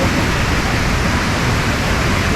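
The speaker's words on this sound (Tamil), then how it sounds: "செம்பகாதேவி வாட்டர் ஃபால்." Shenbaga Devi waterfall at Courtallam roars as a loud, steady, broadband rush of falling water, unbroken and close, with no voices.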